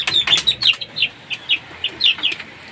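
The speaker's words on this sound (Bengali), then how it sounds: "এগুলো সবগুলো আমাদের দেশি মুরগির বাচ্চা" Native chicken chicks chirp in a quick series of high, bright peeps. The calls are close and fairly loud and come in an uneven rhythm of about a dozen notes with no voices.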